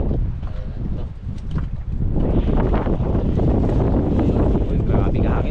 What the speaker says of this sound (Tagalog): Uy, grabe ka hangin oh.